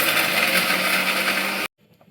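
A kitchen blender grinding green chutney with peanuts and salt gives a loud, steady whirring roar close by, then it cuts off abruptly, leaving quiet room noise.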